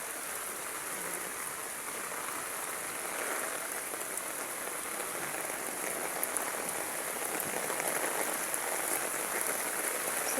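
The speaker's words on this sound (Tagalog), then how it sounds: "Lumalakas na po yung hangin saka ulan." Typhoon Carina's heavy rain drums hard on surfaces in flooded Metro Manila as the wind picks up, a constant loud downpour with scattered drop hits, heard alone without voices.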